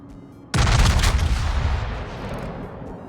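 Main guns of a sap secondary battleship in World of Warships fire in one sudden heavy boom that rolls into a long, loud decaying rumble lasting a few seconds, with no talk.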